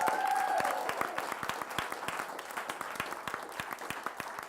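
A live arts-education show audience applauds for young performers and their instructor, a dense wash of many hands clapping that starts loud and thins slightly, with a faint tone fading at the start.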